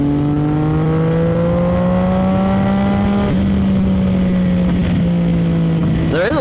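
A CFMOTO 675SS sport motorcycle with an ECU tune holds a steady, droning engine note while being ridden, the pitch sliding slightly as the revs change, with a quicker rise in revs near the end.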